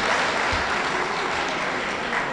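A crowd applauds at an official campaign launch for candidate Alassane Ouattara in the USA, 2015. The clapping is a dense, steady wash that holds at full strength for the whole stretch.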